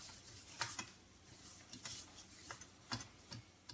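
Olive oil is rubbed with soft, repeated strokes over the bottom of an Instant Pot cheesecake pan, a close, faint scraping and rubbing rhythm with no voices.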